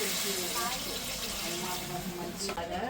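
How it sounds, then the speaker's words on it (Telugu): Water pours into a pot of country rooster curry as a continuous splashing gurgle under a person talking throughout. "ఇప్పుడైతే మనం వాటర్ వేసేసుకుందాం"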